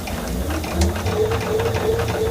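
A sewing machine stitching a quilt square, a fast steady mechanical whir and clatter running continuously at close range.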